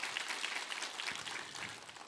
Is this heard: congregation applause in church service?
yes